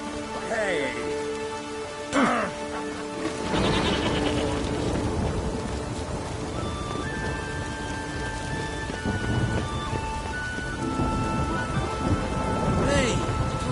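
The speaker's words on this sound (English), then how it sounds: "I love the rain." Steady heavy rain pours over a medieval outdoor scene in The Witcher 3 game, with a loud thunder rumble and crack partway through and distant voices calling out near the start.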